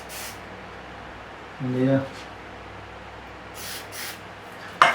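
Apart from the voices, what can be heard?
switch cleaner sprayed into guitar pots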